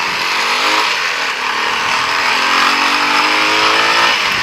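A motorized tricycle speeds past close by, its engine a loud, steady roar that holds for a few seconds with no one talking.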